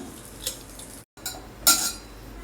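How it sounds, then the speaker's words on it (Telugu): Two boiled potatoes being mashed in a bowl: close metallic clinks and scrapes of a utensil against the bowl, short and irregular, with a brief pause in the middle. "ఉడకబెట్టుకున్న బంగాళదుంపలు 2. ఇది దీంట్లోనే మెత్తగా ముందర విడిగా నలిపేసుకుందాము."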